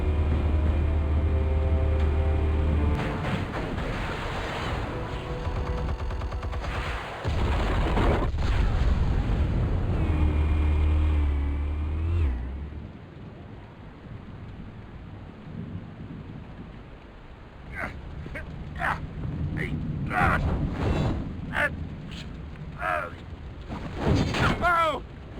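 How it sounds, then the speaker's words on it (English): Explosives detonating in Batman: The Telltale Series, deep booming blasts with rumbling low-end roar, followed by quieter crackling debris and a few sharp impacts. "Explosives armed. Fire when ready."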